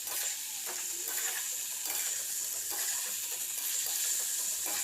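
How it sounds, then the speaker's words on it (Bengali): Shredded cabbage being stirred and fried in a pan over medium heat, with garam masala just added, gives a steady close sizzle and hiss broken by the scrape of the spatula about once a second. Nobody speaks. "এবার ভালো করে নাড়াচাড়া করে বাঁধাকপিটা ভাজা ভাজা করে নেব।"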